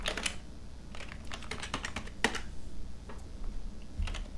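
Typing code on a computer keyboard: quiet, steady clicking keystrokes in irregular quick bursts, close and alone with a faint background hum.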